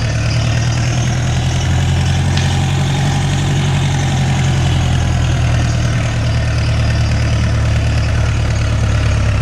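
A DHC Chipmunk's engine idles as the plane taxis in a flight simulator game, a loud, steady low drone with no talk.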